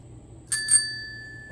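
Two quick bright dings of a small bell, like a bicycle bell, close and clear with a short ringing tail, alone against a quiet background.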